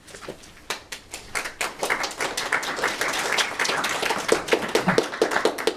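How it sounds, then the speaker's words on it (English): Lively applause from a group, many hands clapping together in a steady patter that builds and holds, with no talking over it. "Are you clapping me or are you clapping Karen"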